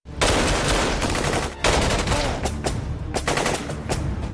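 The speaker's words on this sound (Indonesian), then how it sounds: "aksi baku tembak di antara mereka gak terhindarkan lagi" Dense machine-gun and rifle fire from a shootout scene in a film, loud and close, in continuous rapid bursts with brief gaps, no talking over it.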